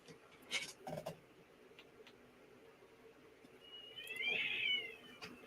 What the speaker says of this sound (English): was that my cat or yours?